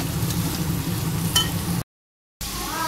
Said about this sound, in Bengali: আদা রসুন পেঁয়াজ একসাথে বাটা তেলে দিয়েছি, ভালো করে একটু কষিয়ে নিই